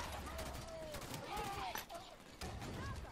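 A beam rifle fires in the video game Halo 5 during a battle mission, with sharp shot bursts and whining energy tones mixed with other game sounds and voices.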